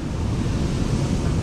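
Ocean surf off Panama crashes in a steady, heavy roar while surfing, with gusty wind buffeting the microphone throughout.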